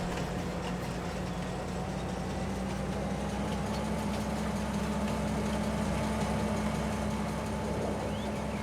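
A train rolls through a snowy winter landscape in the farming game Farming Simulator 22, its steady engine drone and low rumble running unbroken and moderately loud, with no talking.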